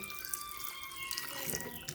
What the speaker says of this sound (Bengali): তেল দিয়ে এখন আমি পানি দিয়ে দেব,